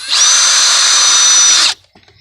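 A power drill drives a screw into wood during well wiring work, giving a loud, close, steady high-pitched whir for about a second and a half before it stops abruptly, leaving faint trailing noise.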